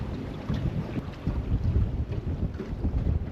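Gusty, cold wind buffets the microphone in deep, rumbling bursts on a fishing boat, with the faint wash of water around the hull underneath.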